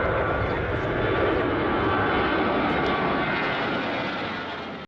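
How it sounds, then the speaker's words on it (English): EasyJet Airbus A320 aborting its landing at the last moment in a go-around, a loud, steady broadband roar of jet engines throughout, fading slightly at the end. "This EasyJet Airbus A320 is compelled to abort its landing at the very last moment because a vehicle is on the runway."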